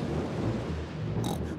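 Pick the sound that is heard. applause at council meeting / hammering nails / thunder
thunder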